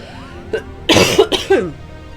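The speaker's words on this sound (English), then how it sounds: "I'm sorry for coughing and snuffling at you." A person coughs close by, first one small cough, then three harsh bursts in quick succession, with no talking.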